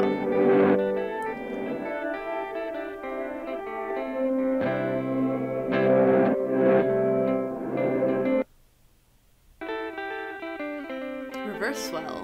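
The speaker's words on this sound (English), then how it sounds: "Reverse swell." A Poly Digit effects pedal playing its reverse swell preset: sustained guitar notes bloom in with reversed, swelling echoes and reverb, then cut to near silence before another chord swells back.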